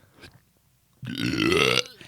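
A deliberate, forced burp, loud and close, preceded by a short breathy sound and a pause, then one drawn-out croaking belch lasting under a second.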